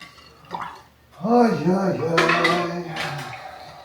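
A utensil stirs homemade soda in a pot with sugar stuck at the bottom, making clinking, scraping contact sounds while a person talks over it.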